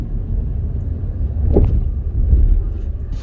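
A 2008 Chevy Impala driving along, its low engine and road rumble steady with a brief rise midway as the transmission shifts, noisy with wind buffeting.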